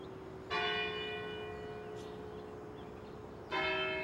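A bell-tower bell in Disney's Magical Mirror Starring Mickey Mouse rings twice, each strike a loud, bright, ringing clang with rich overtones, the first hum sustaining for about three seconds before the second strike, with no talk.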